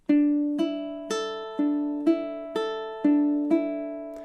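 Plucked ukulele notes in a simple fingerpicking etude ring out alone, about eight evenly spaced plucks that each decay gently while alternating between a few pitches in a steady rhythm.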